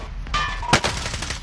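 Video game gunfire heard as a few sharp shots and a short burst with a metallic ring, fairly close amid background game noise, no voices.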